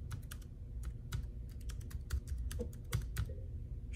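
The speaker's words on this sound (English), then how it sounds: "I'm gonna test out the keyboard function." Typing on a Jelly Comb foldable Bluetooth keyboard connected to a MacBook gives quick, light, close key clicks in an uneven run, heard alone.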